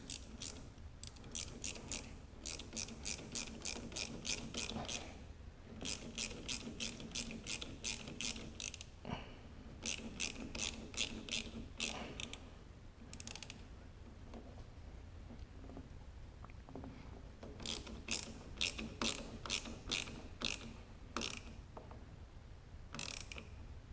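A hand ratchet clicking in quick repeated bursts while tightening a fitting on a Porsche 944 during an LS engine swap, close and crisp, with short pauses between strokes.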